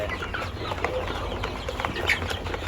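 A mixed flock of tiger chickens and farm chickens clucks and cackles busily, short overlapping calls over a constant low hum, close and steady throughout.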